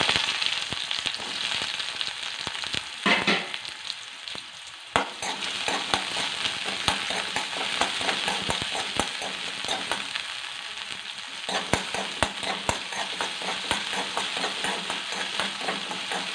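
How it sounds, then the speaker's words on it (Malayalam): Mustard seeds spluttering and popping in hot oil in a pan, a dense run of sharp crackles with louder bursts over about sixteen seconds, close and steady, with no talking. "കടുക് ഒന്ന് പൊട്ടട്ടെ കടുക് പൊട്ടി കഴിഞ്ഞ്"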